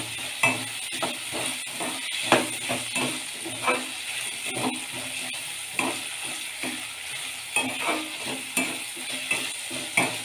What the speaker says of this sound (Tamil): இதெல்லாம் கொஞ்சம் எண்ணெயிலே நல்லா வதங்கட்டும்